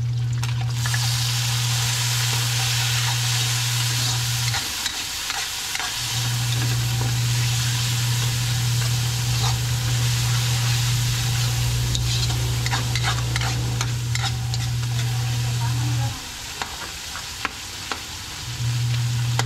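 Tomatoes sizzle in a pan over reddened garlic and onion for pinakbet, a loud continuous fry with occasional scraping stirs, over a steady low hum that cuts out and returns.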